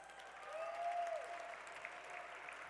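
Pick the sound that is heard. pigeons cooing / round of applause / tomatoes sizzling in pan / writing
round of applause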